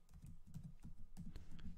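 Quick keystrokes on a computer keyboard, typed while writing PHP code, land as a brisk irregular run of close, crisp clicks and taps with no voice over them.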